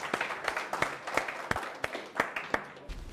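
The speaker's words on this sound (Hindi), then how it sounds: "भरपूर तालियां।" An audience at an Eid program gives scattered applause for Kashmiri rabab musicians, with distinct individual claps ringing out at an uneven rhythm, fairly near and moderately quiet.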